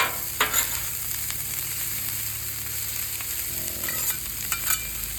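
Vegetables cooking in oil on a Blackstone griddle for a chicken stir fry, a steady close sizzle with occasional clicks and scrapes of a spatula on the flat top.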